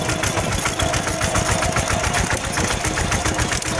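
A plough tractor's engine runs steadily near a fish pond, a continuous rapid clattering chug at close range with no break.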